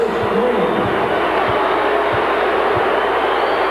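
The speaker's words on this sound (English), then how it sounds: "Crowd not at all pleased, as you might expect from the highly partisan crowd here in Atlanta" A partisan basketball crowd in an Atlanta arena boos steadily during a 1997 Bulls versus Hawks game, a dense, sustained roar of disapproval with a few dull thuds under it.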